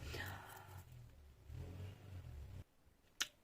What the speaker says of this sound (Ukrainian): просто машина почала дуже жужжати сильно, і в мене відчинене вікно